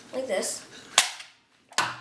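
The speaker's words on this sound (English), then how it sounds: "the main thing that you can tell if it's shooting great is the sound of dry firing" Two sharp snapping dry-fire shots from a modded Nerf Spectre blaster, about a second apart, close and crisp, with a brief mechanical rustle before the first.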